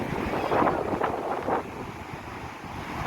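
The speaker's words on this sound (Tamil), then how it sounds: "தெரியுது பாருங்கள், அலை நல்லா வருதா பாருங்கள்" Sea waves wash and surge under gusty wind buffeting the microphone at Gokarna beach in Karnataka, with a couple of louder swells rising early on before settling into a steady roar.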